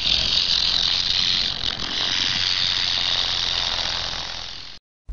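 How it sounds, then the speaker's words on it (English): A rattlesnake's rattle buzzes in one continuous, fast, dry whir, close and steady for nearly five seconds before it cuts off abruptly. "Rattlesnake."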